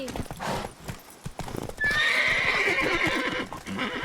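Roach, the horse from the video game The Witcher 3, clip-clops steadily with hoof beats and lets out a loud whinny partway through, amid game ambience with faint distant voices.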